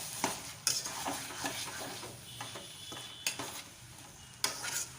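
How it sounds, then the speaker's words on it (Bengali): Taro leaves cooked down with chickpeas in a pan give a few sharp spatula scrapes and clacks against the metal over a soft, steady sizzle. No one speaks. "আরও কিছুক্ষণ ধরে আমি শাকটা কষিয়ে নেব"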